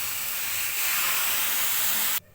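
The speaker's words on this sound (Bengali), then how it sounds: "এর মধ্যে দিয়ে দিব সামান্য পরিমাণ দুধ" Milk poured into a hot pan of lachha semai sizzles with a loud, steady, hissing steam that holds for about two seconds, then cuts off abruptly into quiet.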